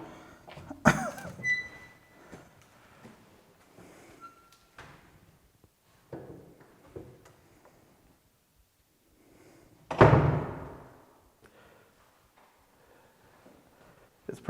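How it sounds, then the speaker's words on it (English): A heavy door in an old asylum building opens and closes with a few scattered knocks, then one loud, close thud, amid sparse quiet room noise. "this door is heavy too"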